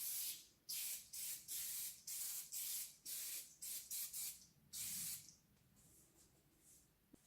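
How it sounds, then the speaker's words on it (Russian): An aerosol can of glass cleaner is sprayed onto sooty fireplace glass in a rapid series of short hissing bursts, close and steady, then the spraying stops, leaving quiet. "берем баллончик, глаз клинер."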